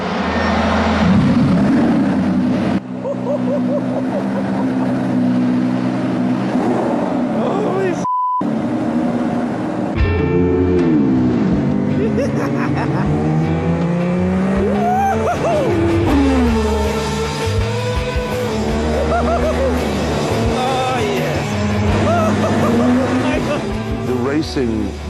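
A 1988 McLaren MP4/4 Formula 1 car driven by Lewis Hamilton roars loudly through the Monaco street circuit, its engine note sweeping up and down through gearchanges, with a brief cut near the start.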